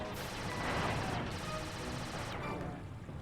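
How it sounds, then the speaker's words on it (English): Air-support planes strafe with rapid gunfire in the Sly 2 video game, a dense, continuous burst of shots and crashing impacts lasting throughout, loud and close with no talking. "They will strafe us wherever they can"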